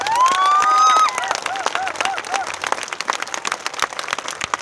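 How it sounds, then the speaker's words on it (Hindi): Crowd applause and cheering at a motivational business seminar in Varanasi, opening with a rising whistle-like tone before dense, moderately loud clapping takes over and carries on to the end. "तो दोनों हाथ ऊपर करके तालियां भी आपकी जीत के जश्न जैसा होना चाहिए"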